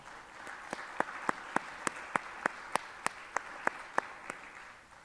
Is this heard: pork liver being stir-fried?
no